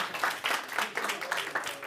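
A short burst of scattered clapping, like a small group applauding, fairly distant and thin with an uneven rhythm.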